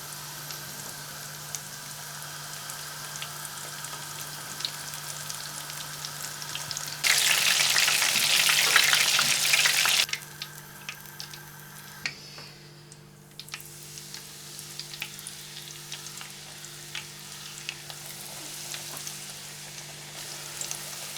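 Battered calamari deep frying in hot oil, a steady sizzle that surges into a loud, dense crackle when the pieces go in, then settles to a quieter bubbling fizz.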